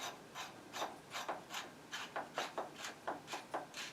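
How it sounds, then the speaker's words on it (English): A nut is tightened by hand onto a Dana planetary axle. Around ten soft, evenly spaced rasping strokes repeat at a steady rhythm, faint and close, with no talking. "We get to put on our first nut and cinch him down"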